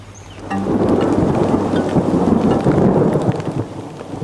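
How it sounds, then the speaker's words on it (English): A loud, close thunderstorm with steady heavy rain, deep rolling thunder rumbling continuously beneath the dense hiss of falling water, with no voices. "The stormy weather, a precursor of things to come."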